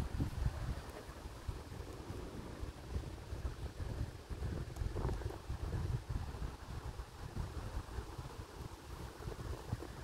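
Steady wind rushes and buffets the microphone throughout, a continuous rumbling roar with no voices.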